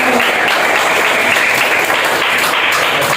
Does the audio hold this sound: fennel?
no